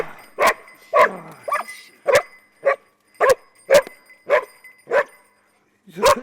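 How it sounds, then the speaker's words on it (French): A search and rescue dog in Belgium barks sharply at a found victim, about ten loud, close barks in a steady rhythm with short pauses between them. "Il a bien fait ça, il l'a pas mordu, il fait que aboyer."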